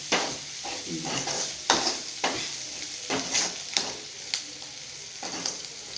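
Ginger sizzles in hot oil while a spoon stirs and scrapes the pan in repeated clattering strokes, the frying hiss fairly soft underneath.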